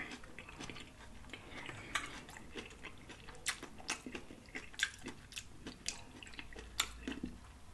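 Close-up chewing and biting of crunchy tacos and shrimp nachos at a mukbang meal, with soft wet crunches and mouth clicks recurring irregularly and alone, no talking.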